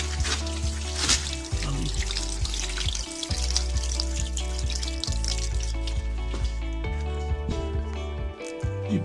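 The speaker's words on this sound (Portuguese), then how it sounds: "E pronto, já está saindo água." Water trickles and drains steadily from an unclogged drain hole on a car, close and fairly quiet. A voice speaks briefly near the start.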